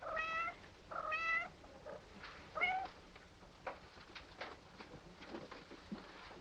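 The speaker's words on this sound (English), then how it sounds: "My poor kitties." Several cats meow in short bursts, two clear harmonic cries close together early on, then another meow followed by softer scattered meows and rustling in a quiet room.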